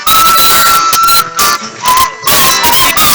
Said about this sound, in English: because I want to play the whistle theme more